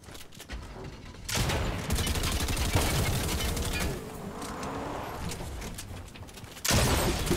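Gunfire in Fortnite crackles in sustained, dense volleys at moderate loudness, with a sharper, louder burst near the end.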